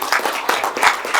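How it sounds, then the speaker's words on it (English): Applause at a county board meeting, a short patter of hand claps from a small group of people, fairly close and steady. "Mr. Chairman, I'd suggest a round of applause."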